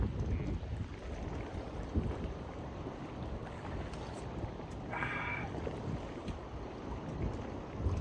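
Wind buffets a microphone out on open sea water near Grape Island, a constant, low, rumbling gust noise with choppy surges and no speech.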